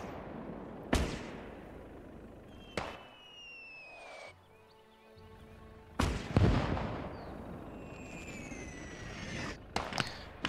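Mortar and artillery fire in the WWII strategy game Gates of Hell during a Soviet skirmish at Seelow Heights, with sharp booming blasts spaced a few seconds apart over battlefield ambience and whistling shells.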